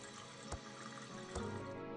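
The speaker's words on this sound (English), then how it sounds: "we're wasting water" Water runs from a tap in the point-and-click game Thimbleweed Park, a faint steady trickle with two soft splashy knocks along the way.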